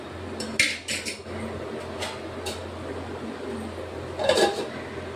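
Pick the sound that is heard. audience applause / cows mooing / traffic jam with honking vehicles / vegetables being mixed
vegetables being mixed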